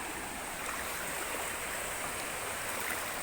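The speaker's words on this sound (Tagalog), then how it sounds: "tatawid kami ng sapa" Steady, even rushing of a shallow, clear stream in Davao Oriental being crossed on foot, a soft continuous wash of water with no voices.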